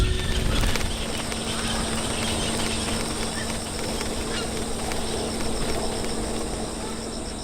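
Dense, steady din from a breeding colony of thousands of egrets and herons, including grey herons, great, intermediate and little egrets, cattle egrets and night herons, nesting in a bamboo grove, with constant overlapping calls and insect-like buzzing throughout.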